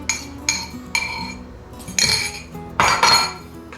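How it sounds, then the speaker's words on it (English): Eggs dumped into a mixing bowl while baking chocolate banana bread pudding, producing a series of close, bright clinks and clatters against the bowl, with no talk. "The eggs. We're just going to dump it all in there."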